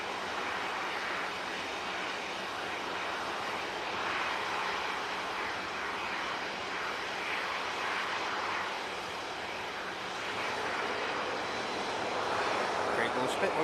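Jet airliner departing Manchester Airport, a loud, continuous broadband engine roar that holds steady and swells slightly toward the end, filling the whole stretch without talk.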